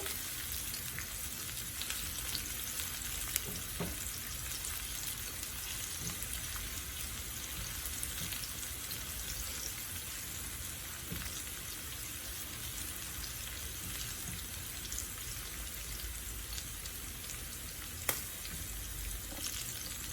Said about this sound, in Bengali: পেঁয়াজটা রসুনটা আমার হালকা ভাজা হয়ে গেছে